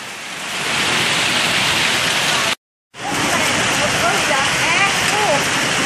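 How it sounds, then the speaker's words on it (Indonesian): Dense hail pours down in Bogor as a loud, steady roar of ice striking surfaces up close, broken by a brief cut. A voice speaks faintly under the din. "sekarang lagi terjadi hujan es"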